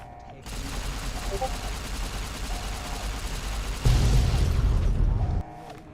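Riot shotgun fire in Fallout: New Vegas thumps out in a rapid string of heavy blasts over game background noise, growing louder and denser toward the end before cutting off.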